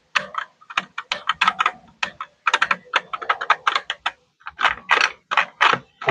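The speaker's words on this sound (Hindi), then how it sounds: "और अब मैं इसका टाइपिंग दिखा देता हूँ" Rapid typing on a budget wired Zebronics mechanical keyboard, close and loud, with bursts of clacky keystrokes separated by short pauses and no talking.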